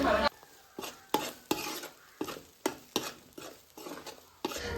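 Ginger garlic paste frying in sesame oil with mustard seeds and curry leaves, heard as a run of close, sharp spoon-against-pan scrapes and clatters, roughly one or two per second, over a soft sizzle.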